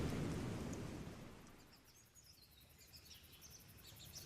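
A thunderstorm sound effect in a narrated story: a heavy, low rumble of thunder rolls in loud and fades over a couple of seconds, leaving a steady hiss of rain with faint chirps above it.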